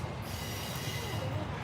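A freight train carrying FedEx trailer containers passes by, a steady low rumble of wagons with faint wheel squeal, fairly distant and quiet, no talk.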